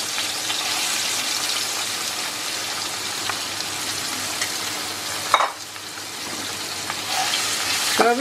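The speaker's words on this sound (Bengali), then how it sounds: "এটাকে খুব ভালো করে তেলে ভেজে নেব।" Soybean chunks fry in oil with Kashmiri red chili powder, hissing and crackling continuously up close, with a sharp scrape or stir near the middle and a brief watery gush near the end.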